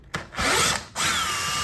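Power drill working on concrete anchors while a model railroad layout is broken down: two short bursts of whirring and grinding, close and loud, separated by a brief pause.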